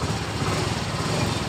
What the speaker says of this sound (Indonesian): Seperti ini dalam keadaan mati lagi dan kemudian kita hidupkan.